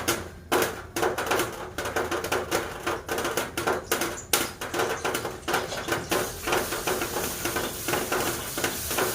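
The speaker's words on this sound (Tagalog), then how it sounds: "Kumukulo na siya." Steady crackling and bubbling from lumpia shanghai frying in a pan, with irregular popping bursts throughout and no talking.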